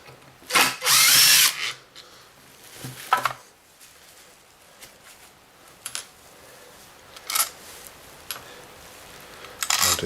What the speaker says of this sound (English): Right, so we'll just take these bottom bolts out.